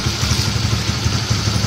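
A Honda CB150R motorcycle idles close by, its engine putting out a steady low, pulsing chug that holds an even level throughout, with no voices over it.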